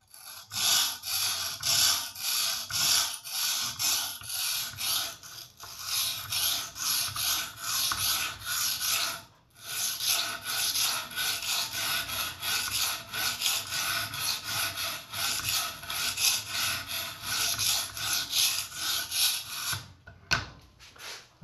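A high-end folding knife is sharpened on an Edge Pro Apex sharpener, with rapid, rhythmic raspy strokes of stone against steel repeating continuously, broken by a short pause near the middle and ending in a few lighter scrapes.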